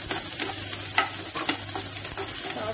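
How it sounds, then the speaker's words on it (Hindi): Chopped onion and green chilli fry in hot oil in a pan, a steady close sizzle broken by soft scraping stirs from a spoon, with no talking. "अब इस ऑयल में हम डालेंगे प्याज और हरी मिर्च, तो फ्राई कर लेते हैं।"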